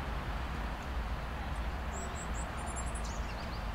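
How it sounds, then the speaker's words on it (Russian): Small birds singing in a botanical garden, a few faint, high chirps and short trills over steady outdoor wind and background noise. "Единственное, что птички прикольно поют."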